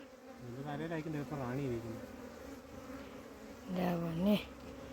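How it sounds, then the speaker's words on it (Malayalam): Honeybees crawl and swarm over a hand as a colony is gathered from the ground into a hive, their steady close buzzing rising and falling with louder flurries toward the end. "എൻ്റെ കയ്യിലെല്ലാം തേനീച്ചകളും വന്ന് ഇരിക്കുന്നു"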